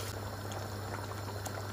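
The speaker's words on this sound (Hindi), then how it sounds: "अब हम इसमें 1 कप पानी का डालेंगे हल्की" Water is poured into simmering chicken korma gravy, giving a steady bubbling, hissing wash of liquid that holds evenly throughout this short moment without speech.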